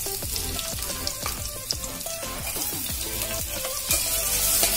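Onions and pepper frying in a hot pan for a Nazrani-style vegetable stew, with a steady close sizzle and occasional stirring scrapes throughout, no talking.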